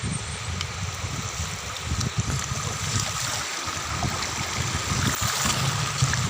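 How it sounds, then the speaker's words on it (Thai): A waterfall along a jungle trail, a continuous broad rush of flowing water, close and fairly loud, with a few faint knocks and rustles over it and no talking. "สุดยอดฟังเสียงน้ำตก"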